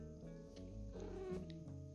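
A cat vocalizes close by, giving a drawn-out, tonal meow or yowl that rises in the middle, with no talking over it.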